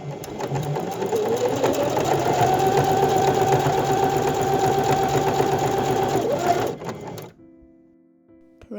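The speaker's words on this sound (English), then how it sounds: "Sew with zigzag or overlock." A sewing machine stitches the side and shoulder seams of a T-shirt, running in a steady, fast mechanical whir for several seconds, then slowing and stopping with a few small clicks.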